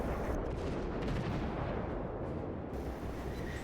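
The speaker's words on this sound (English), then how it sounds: "Lieutenant James orders all guns to fire at will" Naval artillery salvo from warship guns firing at will during a World of Warships battle, a dense continuous roar of heavy gunfire and blasts filling the whole stretch, loud and sustained.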